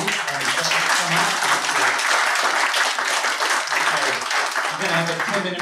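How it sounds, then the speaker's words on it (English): Seated audience applause at a public talk on Gaza and Israel, loud and sustained clapping from a roomful of people, with murmured voices underneath throughout. "please give it another round of applause for Shamikh"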